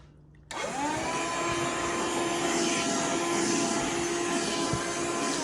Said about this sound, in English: And then you just go and you vacuum everything up.